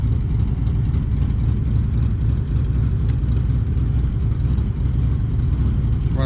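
An old Buick Electra's engine runs steadily, a loud, dense low rumble that holds constant throughout with no speech.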